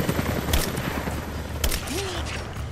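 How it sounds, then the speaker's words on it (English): Gunfire in the Rise of the Tomb Raider video game during a fight, a few sharp separated shots cracking out over rumbling background combat noise, loud and close. "I love getting headshots."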